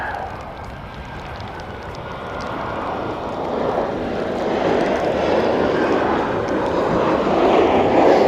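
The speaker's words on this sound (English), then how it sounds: "Here's another Qantas coming in." A Qantas airliner coming in to land roars as a broad, steady jet rumble that slowly grows louder as it nears, heard from a distance at a plane-spotting spot with no talking.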